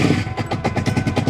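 A 2002 Suzuki SV650 motorcycle engine with old fuel in it cranks on full choke, making a steady, loud, rapid chugging pulse that never catches and runs alone for a moment.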